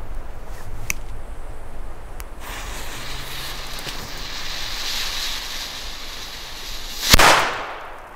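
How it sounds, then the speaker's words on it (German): A Panda D-Böller firecracker goes off outdoors with a single sharp, loud bang near the end, followed by a short fading rumble over steady wind-like background noise. "So, als nächstes die D-Böller von Panda."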